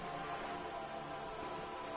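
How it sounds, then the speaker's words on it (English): Steady rain falls in the video game Disco Elysium, an even, continuous patter on wooden boards and water, soft and unbroken with no voices. "All around you, rain keeps falling down."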